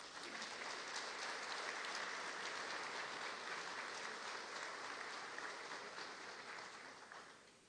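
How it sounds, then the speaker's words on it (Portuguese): Sustained applause from a lecture audience honouring a veteran colonel, a dense, steady clapping that fills the room and tapers slightly at the end. "Pediria para o Coronel Amerino Raposo uma salva de palmas, por favor."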